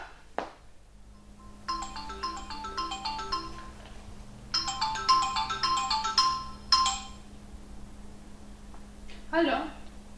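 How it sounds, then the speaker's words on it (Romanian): A phone ringtone plays as a repeated electronic melody in bursts, loud and close, with a steady hum underneath, before a woman answers the call. "Alo? Alo, bună ziua, doamna Laura Alexandru? Da, la telefon"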